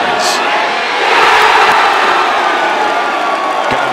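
Golf gallery cheering and whooping for a 210-yard hole-in-one during the third round of a PGA Tour event on Saturday, a sustained roar of a large outdoor crowd that swells briefly and holds steady throughout.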